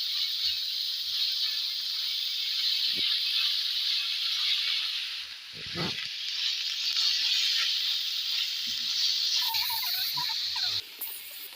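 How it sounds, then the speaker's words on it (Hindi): Chicken pieces fry in cooking oil over a high flame, producing a steady, quiet hiss and sizzle that runs throughout, with a few faint pops and clicks near the end and no voices. "चिकन को हमने हाई फ्लेम पे अच्छी तरह फ्राई कर लेंगे ताकि ये चिकन जो है हमारी तेल से वाइट फॉर्म में आ जाए"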